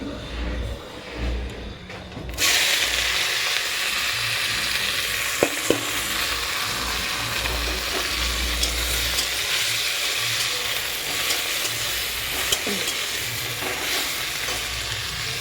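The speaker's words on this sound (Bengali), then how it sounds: "কড়াইতে তেলটা গরম হয়ে গেছে উচ্চ আলুটা ভেজে নিয়ে আসবো" Potato pieces drop into hot oil in a wok and burst into a strong, continuous sizzle that runs steadily for over ten seconds, with occasional stirring clicks.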